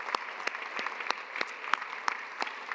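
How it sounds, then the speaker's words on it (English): Audience applause for a group of volunteers at a Habitat for Humanity house party gala, steady and fairly soft, with sharper claps standing out at a loose, regular pace through the crowd noise. "Big round of applause for that group of volunteers."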